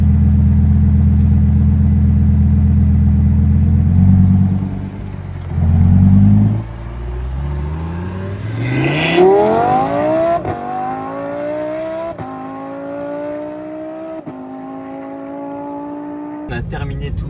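A car engine in Dubai revs up while driving, first a deep low rumble with a couple of surges, then a rising acceleration sweep that climbs steadily and holds, loud and close.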